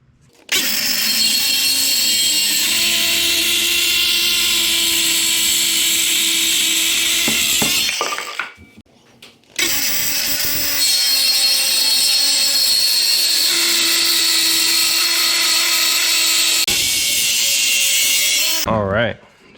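Two wood pieces for a deck gate being cut with a power saw, two long loud whining cuts separated by a short pause, with a rattle at the close.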